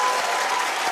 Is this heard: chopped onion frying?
no